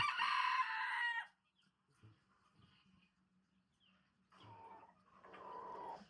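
A rooster crows once loudly and nearby in the morning at a backyard poultry coop, then the yard goes quiet before softer clucking and fowl calls rise near the end.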